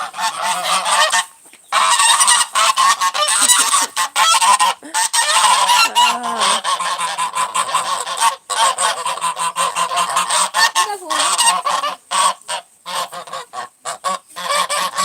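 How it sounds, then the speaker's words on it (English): A flock of geese honks loudly and almost nonstop, close by, the calls overlapping in a dense, noisy chorus. "We have nice geese right there."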